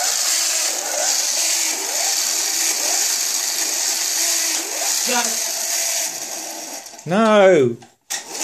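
A stunt bike engine drones under a steady mechanical hum, with brief talk, then surges in a sharp rising and falling rev near the end before cutting off.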